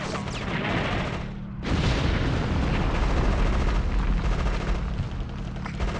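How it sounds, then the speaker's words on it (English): Bombing explosions in the video game Conker's Bad Fur Day: dense, continuous booming and gunfire-like blasts fill the clip, loud and sustained, with a brief dip near the start before the barrage resumes. "Oh, does he shield you from the explosions?"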